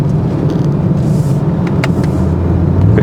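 Range Rover Sport SV Edition One driving in normal D mode, with a steady, loud low rumble of road and engine noise from inside the cabin and a few faint clicks.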